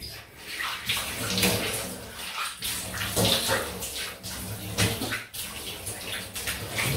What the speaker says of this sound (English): Sorry, you're having to listen to two rinses.